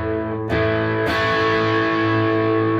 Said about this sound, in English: let's try a little bit of distortion on it.